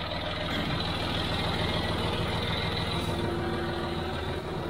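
John Deere 5055D farm tractor engine idling, a steady close diesel rumble that holds evenly for several seconds without pauses or talk.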